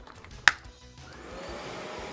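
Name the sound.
vacuum cleaner vacuuming the floor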